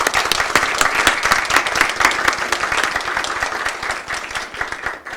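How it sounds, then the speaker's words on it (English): Audience applause at a book launch, a steady wash of many hands clapping close and loud throughout, thinning slightly toward the end. "let's give a round of applause"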